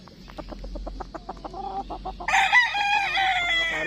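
A Duke Halsey lemon gamefowl bullstag from Mount Banahaw Game Farm clucks in short repeated bursts, then lets out a loud, close crow that carries to the end over a low background hum.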